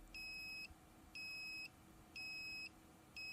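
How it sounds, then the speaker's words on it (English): A high-voltage safety warning beeper sounds four times, each tone holding for about half a second with an even pause between, steady, electronic and insistent over faint background hum. "the beeper can be deactivated if you work in a quiet environment"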